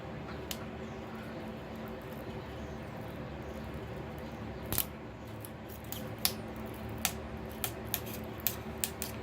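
Cutting into the plastic case of a Milwaukee M18 High Output Compact 3.0 battery pack, with a steady scraping hiss broken by a run of sharp snipping clicks toward the end, close by.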